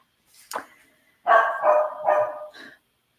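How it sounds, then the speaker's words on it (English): A dog gives one short bark, then after a pause three longer, louder barks in a row, close by, with no talk over them. "the doggies are picking a number. 3 barks means page 3."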